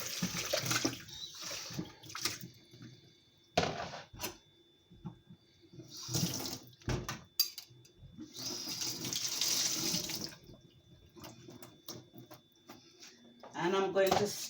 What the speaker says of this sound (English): I'm just going to give my bowl a little rinse